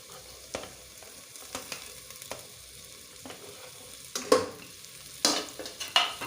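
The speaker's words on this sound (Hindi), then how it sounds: "अब मैं इसमें अपने टमाटर ऐड कर दूँगी, क्योंकि ये भी पकने में टाइम लेंगे।" Tomatoes are added to a pan of green chilies frying for bhindi masala, giving a soft background sizzle broken by several louder spoon scrapes and stirring clatters, the loudest bursts coming toward the end.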